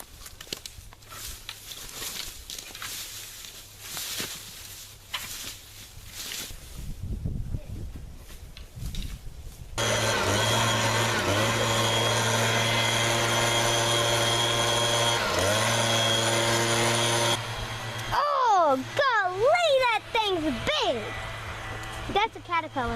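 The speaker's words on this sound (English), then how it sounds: "We're gonna start by blowing these lines and get this pine needles out of the way." A leaf blower roars steadily at close range while clearing pine needles off fire lines before a burn, preceded by outdoor handling noise and followed by changing engine revs.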